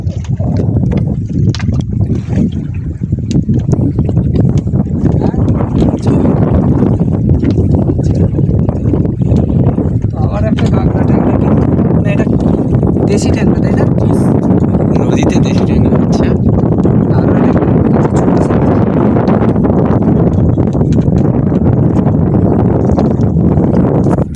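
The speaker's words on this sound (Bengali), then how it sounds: "পরপর নদীতে ঢেউ বাড়ছে তার কারণ বাতাস উঠছে আস্তে আস্তে" Wind rises over river waves in the Sundarbans during a fishing trip, heard as a loud, continuous rushing roar that buffets the microphone throughout.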